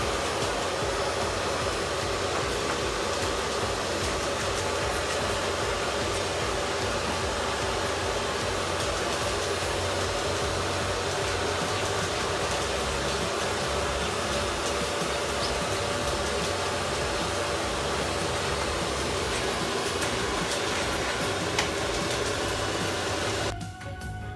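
Horizon 7.0AT treadmill running on test after lubrication of the running deck, a steady whirring motor and belt hum that stays even and continuous, cutting off at the very end.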